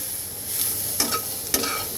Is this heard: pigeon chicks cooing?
no